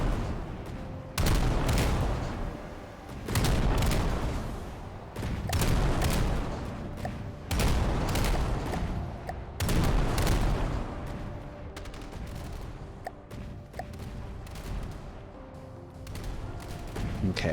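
Anti-aircraft guns on a light cruiser in From the Depths fire in repeated loud bursts, dense rapid volleys that come and go across the whole stretch with short gaps between them.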